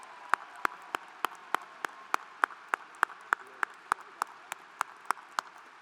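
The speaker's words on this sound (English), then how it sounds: "Big round of applause for our faculty and staff." Sharp, evenly spaced hand claps at a 2019 fall graduation ceremony ring out in a steady, regular rhythm, fairly close and crisp against a quiet room murmur, about twenty claps in a row.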